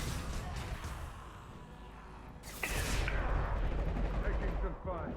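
Gunfire crackles through a Mass Effect 2 battle, a dense, continuous barrage that swells louder partway through and keeps rattling steadily under a man's speech.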